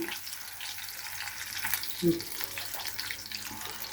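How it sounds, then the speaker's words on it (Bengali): Koi fish frying in oil in a pan gives a steady, close sizzle and crackle, broken by one brief metallic clank near the middle. "মাছটা এরকম ভাজা হয়েছে, আপনারা ইচ্ছা করলে আরও কড়া করে নিতে পারেন।"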